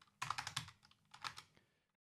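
Fingers type on a computer keyboard to search for a plugin, a quick close burst of about six keystrokes followed by a short pause and a few more taps.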